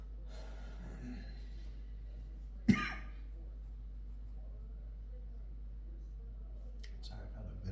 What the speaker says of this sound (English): I've had a bit of a cough.